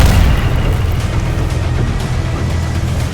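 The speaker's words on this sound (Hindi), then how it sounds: "मरकाबा टैंक को जहां हल्की सी भी हरकत दिख रही है, वहां वो गोला फायर करता है" A Merkava tank in a war zone, heard as a loud, sustained low rumbling boom that fills the whole stretch, heavy and close with no speech.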